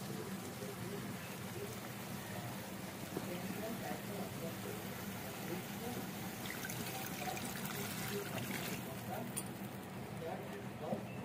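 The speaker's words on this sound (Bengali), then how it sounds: "এবার আমি জল দিয়ে দেব।" Water is poured into a fried, cooked-down spice paste for a home-style Bengali fish curry, giving a steady close sizzling, trickling hiss that lasts throughout.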